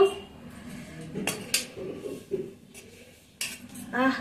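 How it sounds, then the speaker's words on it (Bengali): Home-cooked chicken biryani is served from the pot onto a plate: soft scattered clinks and scrapes of a spoon against metal cookware, quiet and close, with a few sharper knocks. "এবার আমি থালায় পরিবেশন করব।"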